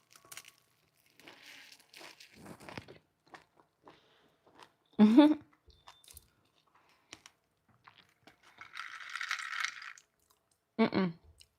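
Someone chewing a vegan tuna wrap rolled in sushi nori seaweed, with close, crisp bites in short bursts between quiet pauses and a few soft clicks.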